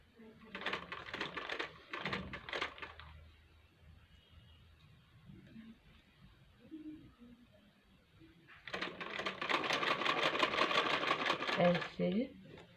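A sewing machine stitches lace onto a garment neckline in two runs of rapid mechanical whirring: a short burst at the start and a longer, louder stretch near the end, separated by a quiet pause with faint handling sounds.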